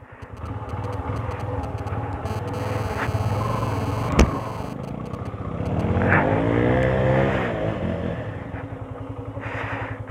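A 220F or FZ V2 motorcycle stuck on a slippery, muddy road, its engine revving and straining with surging throttle bursts, a sharp clatter midway and a rising rev, close and loud with no talking.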